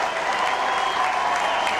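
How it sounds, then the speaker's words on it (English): A football crowd at a West Adelaide versus North Adelaide match breaks into a steady, dense round of applause after a goal, heard as a brief distant wash of clapping behind a commentator. "See a round of applause in the background."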